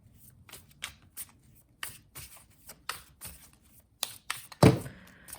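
A deck of cards is shuffled in a string of short riffling bursts and taps at close range, ending in a sharper louder spill of cards, with no talking.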